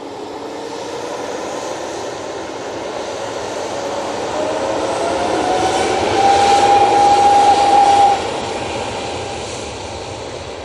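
An EasyJet airliner arriving at Manchester Airport rolls in with a growing engine roar and a thin whine, swelling to a peak near the middle-end before cutting back, with no one speaking.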